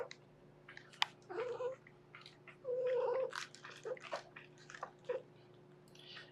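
A cat meows and caterwauls in a series of drawn-out, wavering cries, some short and some long, close by over a steady low electrical hum in an indoor room.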